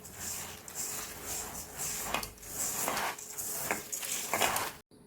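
Rice mixed by hand with homemade ghee in a pot for basanti pulao, giving soft rhythmic rubbing and squishing strokes in bursts, fairly close and quiet, ending abruptly.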